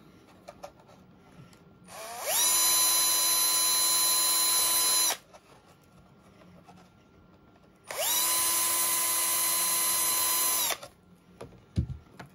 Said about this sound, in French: En utilisant le foret qui est livré avec, sur la carrosserie, il faut utiliser les deux trous les plus extérieurs